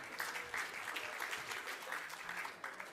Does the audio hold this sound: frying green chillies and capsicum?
no